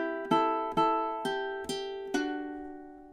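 A ukulele plucks measure seven of a song: five evenly spaced picked notes, each ringing and decaying, played close and alone.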